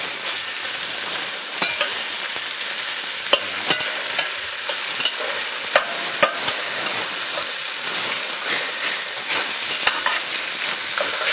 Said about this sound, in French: Je sens la montée en puissance dans du bruit, hein. C'est simplement la cocotte qui se met en température.